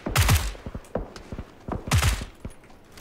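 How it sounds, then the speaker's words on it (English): Gunfire in PUBG (PlayerUnknown's Battlegrounds): two loud, close bursts of rapid shots around a second and a half apart, with scattered single reports and thuds between them, and no voices. "Being shot from the left over here."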